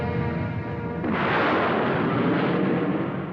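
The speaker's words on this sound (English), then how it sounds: "We are going to launch the bomb." A bomb launch sound effect from a vintage TV show, a heavy blast that swells into a loud roaring rush after about a second and sustains to the end, with no voices.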